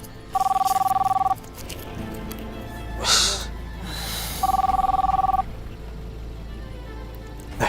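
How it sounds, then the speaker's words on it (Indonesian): A telephone rings at night in two bursts of rapid electronic trilling, each about a second long, separated by a pause with brief rustling and a soft thump. "Siapa sih yang telepon malam-malam gini?"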